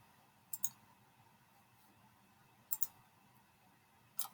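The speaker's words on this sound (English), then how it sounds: "So I'm going to click on the simulation." Computer mouse clicks in a quiet room, three separate short bursts of one or two sharp clicks each, close and faint against low background hiss.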